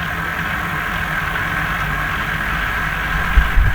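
Hornby W1 'Hush Hush' No.10000 model locomotive motor runs on a rolling road, a steady, faint mechanical hum with a low rumble and a couple of small bumps near the end.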